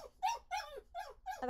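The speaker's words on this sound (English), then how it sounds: "Sorry if you hear my puppy in the background." A puppy whines and yelps from a crate in a series of about five short, high, plaintive cries, close and fairly clear.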